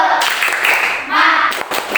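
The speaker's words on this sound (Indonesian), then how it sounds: "Siap. Tepuk semangat." A class of children performs a rhythmic spirit clap in a school lesson, short bursts of patterned clapping mixed with their voices calling out together, close and loud.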